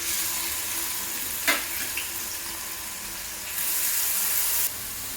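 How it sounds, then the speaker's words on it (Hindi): Finely chopped onion fries in hot oil, a steady close sizzle with a brief clink of a utensil and a slight swell in hiss near the end. "तापरे प्याज दे देमा फ्रेंड्स, एकदम छोट छोट काटी देबे आ दे देबे।"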